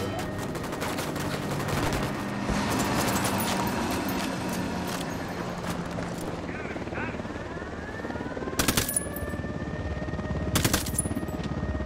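Gunfire bursts in the Ghost Recon Wildlands video game, set against a steady helicopter rotor drone, with sharp loud shots standing out near the end and faint voices in the mix.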